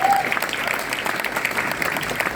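Audience applause at a graduation ceremony in Los Angeles, a dense steady clapping from a crowd that holds evenly for a couple of seconds.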